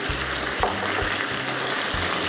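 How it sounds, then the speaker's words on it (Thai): Konjac noodle pieces stir-fried over high heat in a pan, a steady dense sizzle with faint scraping of the spatula and a low repeating hum underneath, no talking. "ใช้ไฟแรงในการผัดได้เลยนะครับ"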